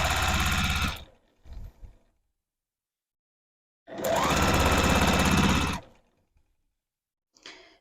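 A sewing machine stitches quilt block rows with backstitching for a beginner star quilt, running in two loud sustained bursts separated by short stops and silence, with a brief faint whir near the end.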